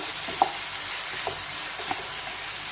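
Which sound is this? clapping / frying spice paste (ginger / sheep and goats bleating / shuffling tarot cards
frying spice paste (ginger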